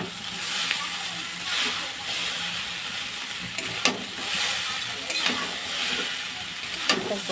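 Chicken chow mein noodles sizzling in a hot pan as vinegar and soy sauce are stirred through, a steady hiss with scattered clinks and scrapes of a utensil.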